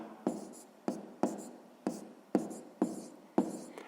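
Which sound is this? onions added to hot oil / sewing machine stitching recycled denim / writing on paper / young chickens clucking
writing on paper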